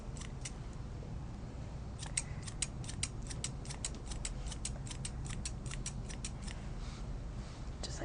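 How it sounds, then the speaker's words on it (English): Thinning shears snip steadily through a schnauzer's coat during grooming, a close, quick run of crisp metallic cuts in bursts with a faint background hum. "And then I get my thinning shears"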